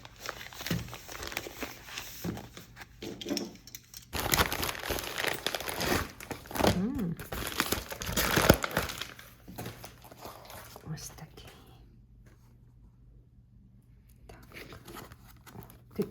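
A mailed envelope holding MillHill and Dimensions craft kits is torn open and crinkled, with rustling, crackling handling noises that swell loudest in the middle while a person talks over them.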